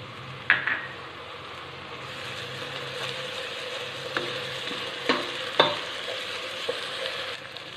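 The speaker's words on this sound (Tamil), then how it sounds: "இப்போ இஞ்சி பூண்டு பச்சை வாசனை போக மட்டும் நல்லா வதக்கியாச்சு" Ginger garlic paste sizzles steadily in a pan for chicken biryani, close and continuous, with a spoon stirring and scraping in occasional sharp clinks against the metal.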